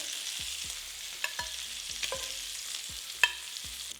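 Chicken pieces sear in a single pan for a chicken and creamed corn dinner, giving a steady close sizzle with scattered small pops and light scraping clicks throughout.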